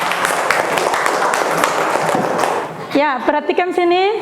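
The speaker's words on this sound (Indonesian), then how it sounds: "Tepuk tangan buat Anis." A class of primary school pupils applauds a classmate, a dense burst of clapping for about three seconds before a teacher's voice speaks.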